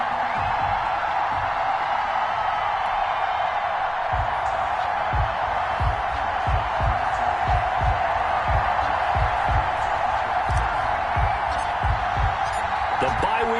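Stadium crowd noise from a Ravens versus Cowboys football video game in Baltimore, a steady broad roar of cheering with low thumps scattered throughout, continuous and moderately distant.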